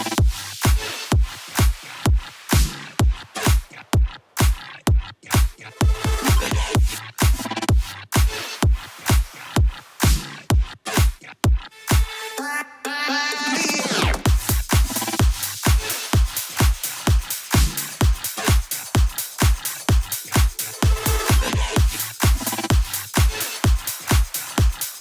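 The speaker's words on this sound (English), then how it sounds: "with all the ear candy and elements in this drop, with the kick and the clap, it sounds like this" A future house drop pounds along with a steady four-on-the-floor kick, snappy claps and scattered ear candy effects, pausing briefly for a swelling riser midway before the full groove returns loud and driving.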